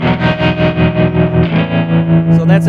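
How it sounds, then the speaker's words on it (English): Guitar through a Kemper tube bias tremolo in the style of a Fender tube amp, sustained chords pulsing smoothly in steady volume waves, loud and close, with the chord changing partway through. "So that's a typical tremolo made by a tube amp, preferably like Fender amps and stuff."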